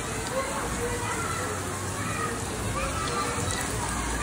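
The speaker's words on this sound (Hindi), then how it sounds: "क्योंकि बारिश आया आज हमारे हैदराबाद में माशाल्लाह से" Rain falls in Hyderabad during a thunderstorm as an even, unbroken patter and splash, steady and moderately loud throughout with faint background activity.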